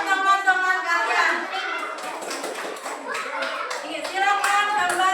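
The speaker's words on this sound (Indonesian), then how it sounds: "Tepuk tangan untuk teman-teman kalian." Schoolchildren in a classroom clapping hands together for their classmates, a loud, close burst of clapping with children's voices and tonal chatter mixed in throughout.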